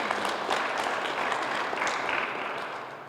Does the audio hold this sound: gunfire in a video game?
no